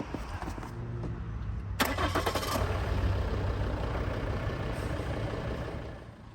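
A 2015 Volvo XC70 P3 engine cranks briefly and catches, then settles into a steady, close idle hum.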